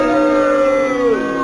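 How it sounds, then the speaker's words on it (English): A dog howls in the video game Metal Gear Rising, a sustained wavering tone that slides downward near the end, loud and steady over a constant background hum with no talking. "Dog? Dog? Hello, dog."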